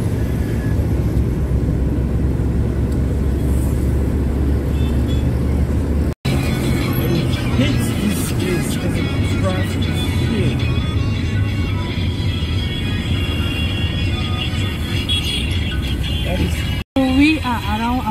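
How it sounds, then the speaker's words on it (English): A car drives through busy city traffic in Douala, Cameroon, its steady engine and road rumble continuous and close, with surrounding street noise and people talking over it throughout. "Driving through the beautiful roads."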